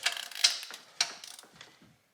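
A ratcheting torque wrench tightens cylinder head bolts to 80 foot-pounds on a 2005 Chevrolet Tahoe, giving a quick burst of close, sharp clicks and mechanical creaks that taper off after about two seconds.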